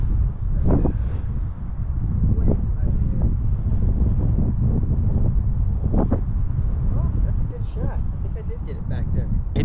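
Strong wind buffets the microphone on a golf course in West Texas, a loud, constant low rumble with a few gusty bursts. Faint voices come through underneath.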